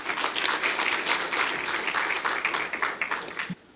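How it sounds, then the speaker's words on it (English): Audience applause for the First Lady of the Republic of the Gambia at a charity foundation launch, a steady, dense wash of clapping from a seated crowd that holds for a few seconds and then cuts off sharply. "please give the First Lady of the Republic of the Gambia a big round of applause,"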